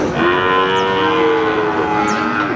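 A PO breed cow at a Central Java cattle market gives one long, loud, sustained moo close by, holding a steady drawn-out tone for over two seconds, alone.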